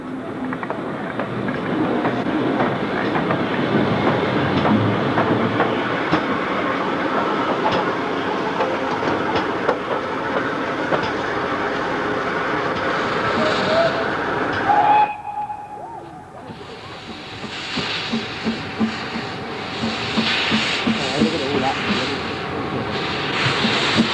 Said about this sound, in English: A Brunswick green engine streaking through the Cornish countryside